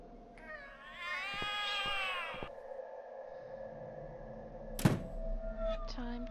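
Cat meows in The Cat Lady game, a long drawn-out wavering yowl followed by dull thunks and a sharp knock over a quiet eerie ambient hum.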